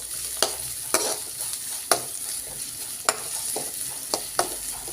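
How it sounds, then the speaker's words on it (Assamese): Finely chopped onions stir-fry in a pan for chana dal, a steady close sizzle punctuated by sharp, regular clacks of a spoon scraping and stirring, with no talking. "এতিয়া ইয়াত মই পিঁয়াজ দি দিছোঁ। এতিয়া খুব ভালদৰে এইদৰে মই মিক্স কৰি ল'ম।"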